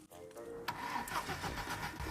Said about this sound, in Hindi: इंजन घूम रहा है, तो अब हम इसे किसी तरह ठीक करेंगे और इंजन स्टार्ट करेंगे।